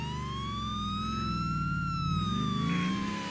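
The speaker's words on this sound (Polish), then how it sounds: "Dla niepoznaki włączymy koguty." A police car siren in Grand Theft Auto IV wails in one slow rising and falling sweep over a steady low engine rumble, continuous and moderately loud with no talking.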